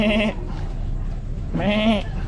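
Two bleats from a goat at a crocodile farm and zoo in Samut Prakan, each lasting about a third of a second, loud and close, separated by a pause over a steady background hum.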